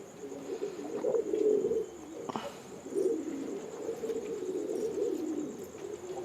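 Pigeons coo in soft, repeated low bursts, close by, with a steady faint high hum in the background; the birds are a Karna pura breed of pigeon kept in Coimbatore.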